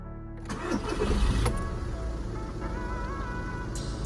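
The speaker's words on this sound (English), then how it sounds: "So let's start the car." A Seat Leon 1P FR170 with a manual gearbox starts up: a loud, close crank catches into a rising rev, then settles into a steady idle hum, with no speech.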